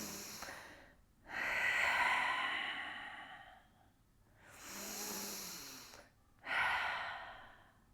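Slow, deliberate breaths in and out during a pelvic-floor (perineum) exercise class, each long airy inhale and exhale swelling and fading, with short silent pauses between them and no talking.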